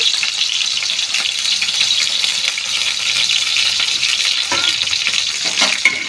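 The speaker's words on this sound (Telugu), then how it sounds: "ఉల్లిపాయలు వేయాలి ఫ్రెండ్స్ వేసిన తర్వాత కొంచెం గోల్డెన్ కలర్ వచ్చేదాకా ఫ్రై చేసుకోవాలి" Onions fry loudly in hot oil for an Andhra-style chicken curry, a dense, continuous crackling sizzle close up, with a few stirring knocks near the end.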